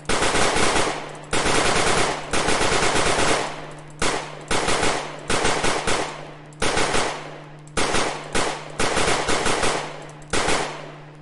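Rapid bursts of gunfire from the zombie shooter game Zombiehaus, loud and close, coming in repeated volleys separated by short gaps.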